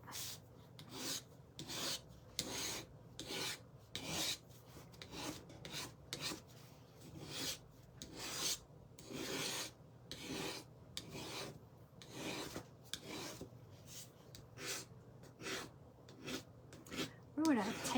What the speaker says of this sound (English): It was like a putty knife or a paint scraper. Okay, so just kind of scrape back some of the paint.